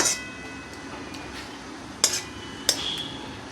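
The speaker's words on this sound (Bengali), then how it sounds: "ভালো করে গুড়টাকে মিশিয়ে নেব" A spoon stirs jaggery into a mango and pumpkin curry in a pan. Two sharp metallic clinks ring out over a quiet, faint scraping background, with no voices.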